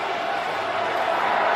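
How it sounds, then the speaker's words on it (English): A large football stadium crowd booing, a dense sustained roar of many voices filling the air without break for a moment. "That's why everybody's booing."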